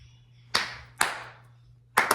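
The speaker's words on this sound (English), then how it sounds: "Slow clap." Three slow, deliberate hand claps spaced about half a second apart, then a quick double clap, sharp and close in a quiet indoor room during a chatty podcast recording.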